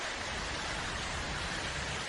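Rain falls steadily outside, a soft, even hiss of drops that stays constant throughout, fairly quiet and with no voices over it.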